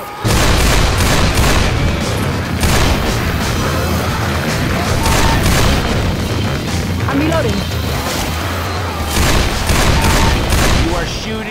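Gunfire in Left 4 Dead 2 during a chainsaw mutation on the Swamp Fever plantation map, loud repeated bursts of shots and booms across the whole stretch, with players shouting over them.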